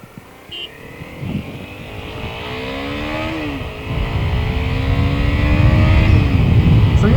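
A 2012 Honda CBR250 motorcycle engine climbs to high RPM while riding, its rising whine sweeping upward, briefly dipping with a gear change, then swelling louder and rougher as the revs build again.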